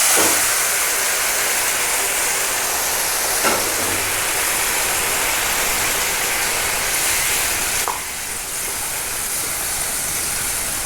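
Beef curry poured into a pan of hot tempering with curry leaves for a home-style Kerala beef curry, giving a loud, steady sizzling hiss that runs unbroken throughout, with no voices.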